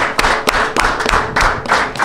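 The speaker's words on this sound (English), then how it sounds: "Let's give Trey a big warm round of applause." An audience at a Xavier men's basketball signing event gives a loud, close round of applause, with dense clapping broken by sharper individual claps throughout.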